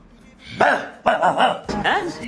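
A person's voice imitates a dog barking in several quick, yappy bursts, close and loud.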